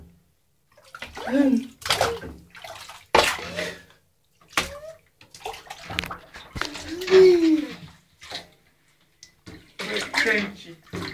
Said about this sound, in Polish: No, nalewaj, nalewaj tej wody,